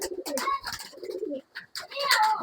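Pigeons cooing, a Kulmi Regdar male and a Dhooma Regdar female, with soft rolling coos and a few brief chirps repeating close by across a short stretch.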